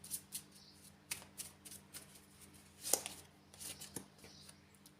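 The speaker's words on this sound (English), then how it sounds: "So I'm going to pull some direct message cards here." Oracle cards are shuffled and pulled by hand in a quiet room, giving soft, close riffling flutters and several sharper snaps and slaps as cards are drawn.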